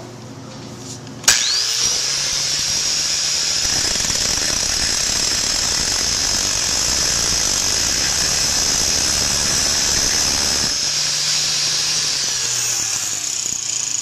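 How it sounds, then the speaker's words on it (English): A grinder fitted with a brand-new grinding stone spins up sharply and holds a high whine, then bites into a hard ceramic composite wear coating for several seconds with a rough, loud grinding roar. It eases back to a freer whine near the end, with no speech. "I'm going to grind on this ceramic so you can see how much wear there is from a brand new grinding stone."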